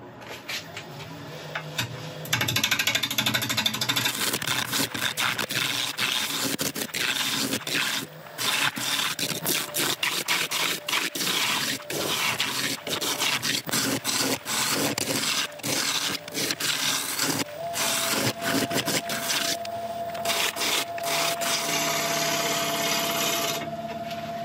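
A Record Power one-inch roughing gouge cuts a spinning cherry log on a wood lathe, giving a loud, continuous scraping and rumbling with rapid choppy bursts as the tool bites, briefly interrupted a few times.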